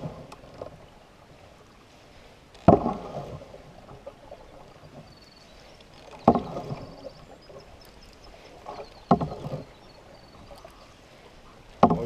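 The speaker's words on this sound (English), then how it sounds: "Well, you're getting better at paddling, buddy." A canoe is paddled on Rain Lake in Algonquin Park, with soft splashes and knocks of the paddle recurring every few seconds over quiet, still water.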